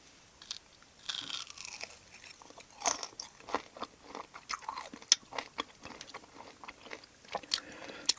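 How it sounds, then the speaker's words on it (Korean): Whole grilled beef large intestine is chewed close to the mic, with repeated wet crunches and bites in an uneven rhythm over several seconds and no talking. "나 통대창 인생 처음이거든? 먹어볼게."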